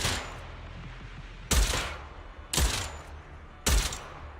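Three sharp gunshots spaced about a second apart in the game Zenless Zone Zero, each a loud punchy burst with a short tail, over quiet background.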